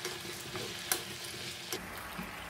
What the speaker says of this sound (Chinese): 放入冬瓜后，继续翻炒。